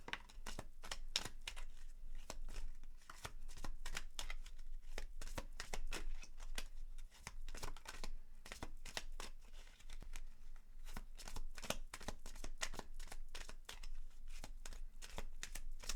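Oracle cards, Romance Angel and Moonology decks, are shuffled in a rapid run of soft, close papery riffles and slaps that repeat steadily throughout at a low level.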